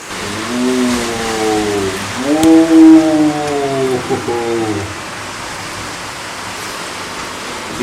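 Heavy monsoon rain with wind pours down in a steady, loud broadband roar, with a few drawn-out wailing, whistle-like tones riding over it during the first half before the downpour continues alone.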